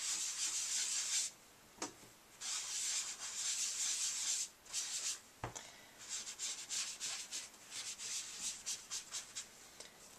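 A sponge is rubbed in circles to ink a Christmas card, producing a close, soft, hissy scrubbing in repeated bursts with brief pauses and a few taps.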